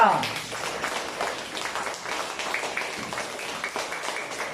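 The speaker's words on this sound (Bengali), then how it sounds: "ধন্যবাদ, হাততালি ওর জন্য একটা।" Applause for a child during a classroom-style question and answer session, a dense patter of clapping from several people lasting through the clip, with a voice speaking briefly at the start.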